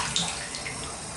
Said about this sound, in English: So you can see the water pressure is very good. The tub is deep and drains nicely.